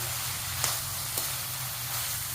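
Mushrooms sauté in a pan for a pepper masala, a soft continuous sizzle with two brief stirring scrapes over a low steady hum, fairly quiet and without voices.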